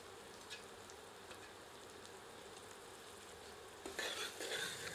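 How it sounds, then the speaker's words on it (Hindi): Onions fry with ginger in a pan for a mixed saag, giving a soft, steady sizzle with faint stirring scrapes. It grows a little louder near the end, with no talking. "प्याज को तब तक भूनते हैं जब तक कि प्याज सुनहरे रंग में परिवर्तित नहीं हो जाती"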